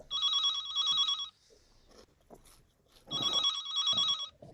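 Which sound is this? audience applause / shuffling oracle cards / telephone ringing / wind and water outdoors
telephone ringing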